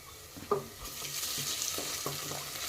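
Fresh ginger garlic paste hits browned onions in a hot pan for okra dal curry, sizzling steadily while a spatula stirs with a few sharp scrapes and knocks, close up and alone.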